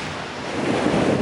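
Ocean waves wash onto a seaside shore in a steady, continuous surge, with a broad rushing hiss rising slightly toward the end and some wind noise over the microphone.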